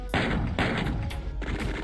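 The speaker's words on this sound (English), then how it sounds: "How many chain gunners are there up there?" Chaingunner enemies in Doom's Plutonia Experiment fire in three heavy, loud bursts of rapid gunfire, each with a sharp attack and a short break between them.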